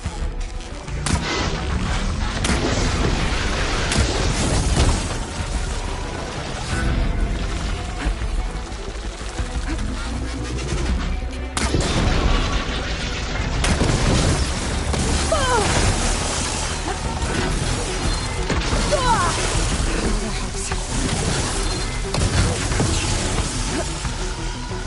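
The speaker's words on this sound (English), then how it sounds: "Hopefully the Tenok can find a few shots from that ballista." Ballista shots and explosions in Horizon Forbidden West, a long stretch of heavy impacts, crashes and booming blasts amid dense battle noise.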